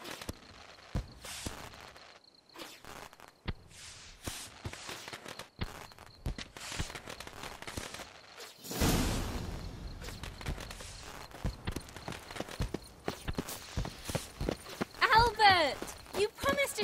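Horse hooves clip-clopping in The Witcher 3: Wild Hunt, irregular close hoofbeats and footsteps heard among game sounds, with a voice speaking near the end.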